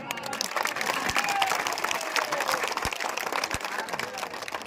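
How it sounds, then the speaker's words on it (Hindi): Crowd at an outdoor political rally claps steadily for a few seconds, a fairly soft and even patter with a few thumps underneath and faint voices mixed in. "ताली बड़ा कमजोर बजत रहा"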